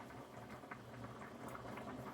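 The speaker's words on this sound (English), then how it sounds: "Now the pasta's boiling." A pot of pasta at a rolling boil on a kitchen stove, a continuous soft bubbling and gurgling that stays steady and fairly quiet throughout.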